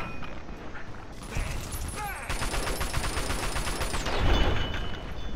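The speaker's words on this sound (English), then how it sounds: "All right, let's shoot you both in the head." Gunfire from a shooter game set in the Fallout: New Vegas wasteland, a dense burst of rapid shots and booms crackling over a continuous bed of game noise, with a sharp whine sweeping in partway through.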